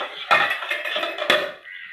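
A metal lid set onto a pot of fish curry, two sharp clanks about a second apart with ringing metallic rattles between them, close and distinct.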